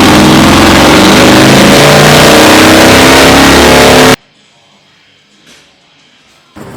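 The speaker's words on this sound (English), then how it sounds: "The bike's so loud it's setting off alarms" A Harley-Davidson Lowrider ST motorcycle engine revving hard, a loud, close, sustained roar that cuts off abruptly into near silence, with a faint thump afterward.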